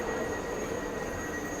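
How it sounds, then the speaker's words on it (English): A train standing at Nuremberg station, due to continue to Munich, fills the space with a steady mechanical hum and a faint high whine, a constant station ambience with no talk. "the train that arrived on is now going to Munich"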